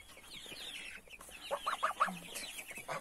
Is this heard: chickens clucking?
yes